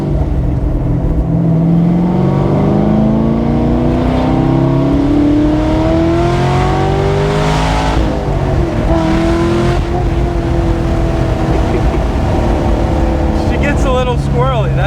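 V8 engine of roughly 500hp swapped into a Mazda MX-5 ND Miata, revving and climbing in pitch through the gears under heavy load, loud and close with constant cabin roar and a voice speaking over it.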